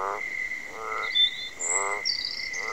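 Frogs croak in a steady pulsing rhythm, four throaty bursts close by, over a constant high insect drone and a few bird chirps in a night chorus.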